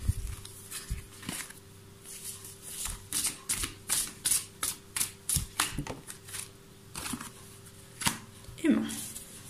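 Tarot cards are shuffled in a quick run of crisp riffling bursts, then a few cards are drawn and laid down with a soft slide, close and clear, while a person talks quietly alongside.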